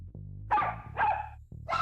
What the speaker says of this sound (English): I think it's a dog.